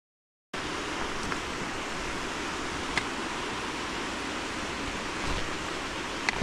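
A creek on the Appalachian Trail near Davenport Gap, running high with snow runoff, rushes in a steady, dense, close wash of water that holds an even level throughout, with no voices.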